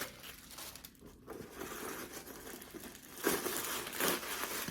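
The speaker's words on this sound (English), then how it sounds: "Got tissue paper inside." Tissue paper crinkles and rustles inside a Gucci Ophidia GG shoulder camera bag, soft close crackling throughout with louder crumpling bursts toward the end, no voices.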